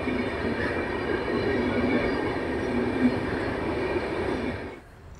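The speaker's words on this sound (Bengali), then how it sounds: "তো ট্রেন ছেড়ে যাচ্ছে দুর্গাপুর রেল স্টেশন থেকে দিল্লির উদ্দেশ্যে" Poorva Express pulling out of Durgapur railway station on its way toward New Delhi, a steady loud rumble of rolling rail cars that continues unbroken for about five seconds, then drops off abruptly near the end.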